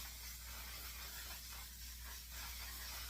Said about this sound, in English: we're going to go ahead and use our fixing spray